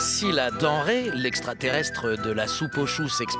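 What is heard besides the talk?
No everyday noise stands out behind the speech.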